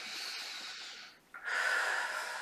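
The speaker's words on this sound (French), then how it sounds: "Et vous prenez une profonde inspiration." A deep breath drawn in through the nose during a guided relaxation session, two close, soft airy inhalations separated by a short pause, the second one fuller and longer.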